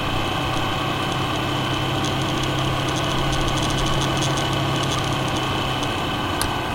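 A Yamaha XT250 dual-sport motorcycle engine running steadily while riding on the road, a constant close single-cylinder drone mixed with wind rush and small ticks, with no speech.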